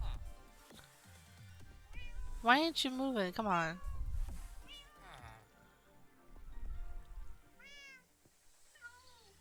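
Several cats in Minecraft meow in rising, wavering calls, one loud cluster near the middle and fainter ones later, while someone talks over them.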